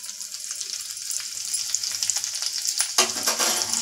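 Boiled potatoes sautéing in a pan give a steady, close sizzle with scattered crackles and light stirring scrapes, growing somewhat louder and fuller near the end, no voices.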